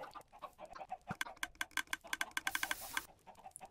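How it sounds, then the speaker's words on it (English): Minecraft chickens cluck amid a burst of rapid clicking taps, the short sharp sounds clustering densely in the middle and then thinning out, fairly faint and with no voice over them. "Hi, chickens."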